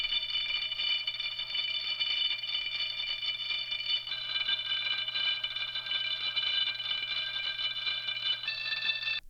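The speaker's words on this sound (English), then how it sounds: "the noise sample is actually playing the chord because of the resonance here that's key tracked" A dreamy synth pad sustains a chord made from a noise sample through a resonant key-tracked filter, its airy, whistling upper tones shifting as the chord changes, soft and continuous over a faint low hum.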